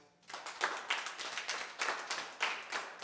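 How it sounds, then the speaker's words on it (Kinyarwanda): A church congregation clapping hands in a steady rhythmic beat, about two claps a second, fairly close and even, with no talk over it. "Mukomere Imana amashyi."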